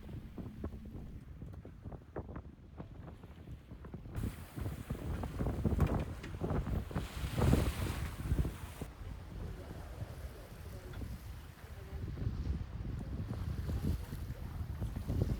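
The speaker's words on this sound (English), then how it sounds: "While we've got strong winds, we sail just with the genoa downwind" Strong wind roars across a sailboat running downwind under the genoa alone, with heavy gusts buffeting the microphone and water rushing past the hull, continuous and loud throughout.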